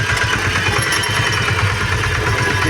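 A tractor engine pulls steadily in first low gear with the herbicide sprayer pump running, working across stubble; a continuous, loud, throbbing mechanical drone with no talk over it.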